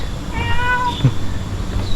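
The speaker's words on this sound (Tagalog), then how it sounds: "May pusa." A cat meowing at Rainforest Wild Asia in Singapore, one clear rising meow mid-clip against faint outdoor background noise.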